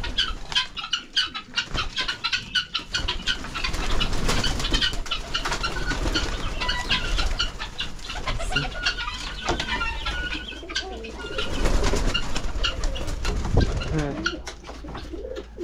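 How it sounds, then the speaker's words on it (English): Doves coo steadily in the evening while wings flap repeatedly, a dense and fairly close flock chorus running throughout with possible faint voices underneath. "these doves more than anything else. They are his favorite portion of life."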